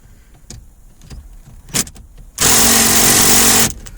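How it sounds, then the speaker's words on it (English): A loud burst of ratcheting on a ratchet with a 10mm socket, cracking loose tight dash bolts on a Toyota RAV4, lasts about a second. Quieter clicks and handling knocks come before it. "we're going to crack them loose with a ratchet"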